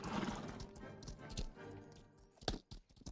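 Cavalry horses in the Roblox game Napoleonic Wars give off steady clip-clop hoofbeats with occasional whinnies, moderately loud and continuous, with a few sharper hoof strikes near the end.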